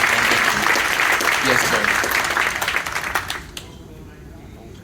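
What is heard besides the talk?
audience applause for veterans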